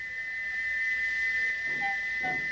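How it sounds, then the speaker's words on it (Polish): A stuck steam locomotive whistle blows nonstop because of a faulty whistle valve, a single shrill tone held steady and loud for the whole stretch with no break. "ale nie przestał gwizdać, dopóki dwaj mechanicy nie wdrapali się na jego dach i nie naprawili zaworu gwizdka"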